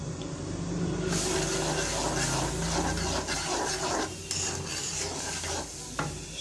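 Spices are stirred and fried in a pan for a bottle gourd and shrimp dish. Continuous scraping and rubbing strokes sound close over a steady sizzle, with a few sharper clinks of the utensil against the pan.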